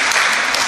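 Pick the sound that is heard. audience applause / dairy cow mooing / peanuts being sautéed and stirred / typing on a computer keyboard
audience applause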